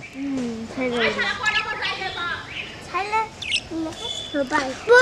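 Caged birds chirp and tweet throughout, a busy overlapping chorus of short bright calls close to the listener, with some chatter mixed in.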